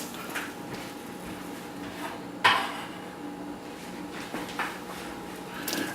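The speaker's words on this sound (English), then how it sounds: "Perfect time for us to add in these chopped sweet potatoes. So I'm gonna drop those in just like that." Chopped sweet potatoes drop into a pot of cooking rice for a Caribbean short rib stew, making a single brief clunk against the pot over a steady low kitchen hum.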